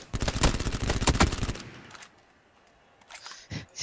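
Automatic gunfire in PUBG, a loud rapid burst of shots lasting about a second and a half, then a near-quiet pause and a few faint later sounds.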